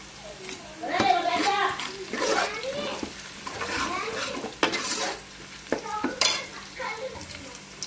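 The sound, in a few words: stirring food frying in a pan after adding turmeric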